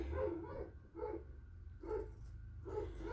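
Big dog barking outside in a backyard, four muffled deep barks spaced about half a second to a second apart, heard from a distance over a low steady background rumble.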